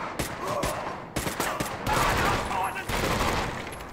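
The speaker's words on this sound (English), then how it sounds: "That sounds like a beefy gun." Heavy gunfire from a beefy weapon in the video game Medal of Honor: Vanguard, with sharp repeated bursts and rapid shots across the span, loud and close.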